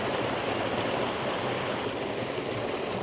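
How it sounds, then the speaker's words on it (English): A small mountain creek coming down off the hills in the Eastern Sierra, flowing over stone as a steady, close, full rushing burble with no pauses or talk. "I found this nice little creek that's coming down off the hills."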